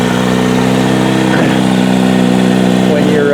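Kawasaki Z900RS Cafe motorcycle engine running through a Dale Walker Holeshot muffler, a loud steady idling rumble close by with a slight rev, under someone talking.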